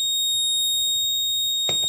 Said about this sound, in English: Okay, red LED on, alarm on,